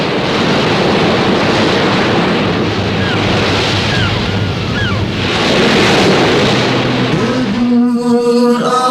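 Ocean waves break on a beach in a loud, continuous roar of surf with wind buffeting, before music comes in near the end.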